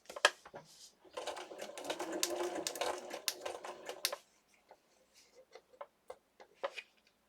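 A sewing machine stitches through paper: a dense, rapid clatter of needle strokes runs for about three seconds, then gives way to a few sparse single stitches and soft ticks.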